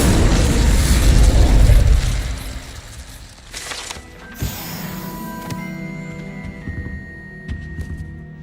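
An Incendio fire spell cast in Hogwarts Legacy bursts with a loud whooshing blast that fades into crackling and ringing magical tones, followed by softer sparkly pops and hits in the game scene.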